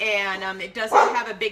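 A dog barks and yips a few times in a home kitchen, close and fairly loud, overlapping a person talking steadily about dairy-free milk.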